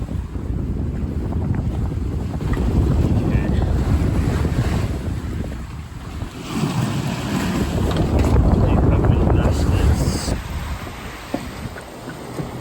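Rough sea waves surge and crash around a sailing boat under heavy, buffeting wind noise, a dense continuous roar that swells and eases in waves.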